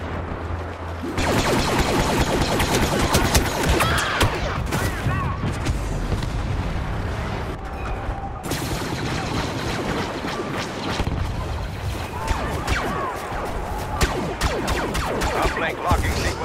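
Weapons fire and explosions from the Star Wars Battlefront game, a dense, loud, continuous barrage of gunshots and booms with sharp cracks throughout, and voices shouting commands over the battle.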